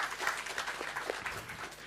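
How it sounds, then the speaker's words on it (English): A present audience applauding a tech team, a short burst of scattered clapping, fairly soft and roomy, with a faint voice underneath. "let's give a round of applause for all the Lyzr team that's present here"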